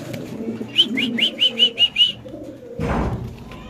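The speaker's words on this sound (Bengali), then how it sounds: "আমরা জাস্ট একটু নরের ডাকটা দেখাবো আপনাদের" A male fancy pigeon coos in a quick run of about six rhythmic calls, close and clear, with low murmuring in the background and a louder rustle at the end.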